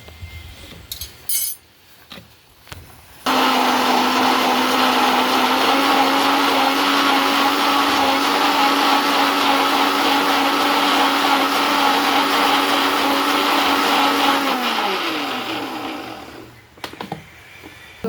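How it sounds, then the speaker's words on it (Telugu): A mixer grinder grinds a gravy paste in a juicer-style jar, whirring loudly and steadily for about twelve seconds, its pitch dropping as it winds down, with a few clinks before it starts. "మిక్సీ గ్రైండర్లో నేను ఆల్మోస్ట్ ఈ గ్రేవీస్ అన్నీ జ్యూసర్ లాంటి మిక్సీ జార్లో గ్రైండ్ చేసుకుంటాను."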